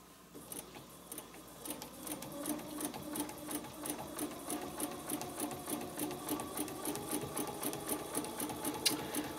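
A sewing machine runs steadily, top stitching with a size 90 topstitch needle and polyester embroidery thread, its rapid even needle clatter close and continuous throughout, with no voices.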